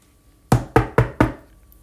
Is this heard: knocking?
yes